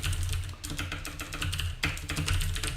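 Typing Java code on a computer keyboard: quick irregular bursts of clicky key taps, close and clear, with a short pause midway before the tapping resumes.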